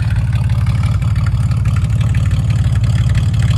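A TVR Tasmin engine idles through a straight-pipe exhaust with no catalytic converters and two resonators, giving a loud, close, steady low rumble with a fast even pulse and no voices.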